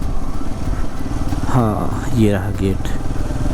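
A motorcycle engine runs at mid pitch near the main gate on the Himalayan road to Gangotri, steady throughout while someone talks over it.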